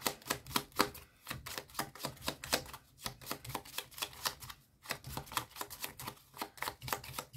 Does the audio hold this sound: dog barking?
no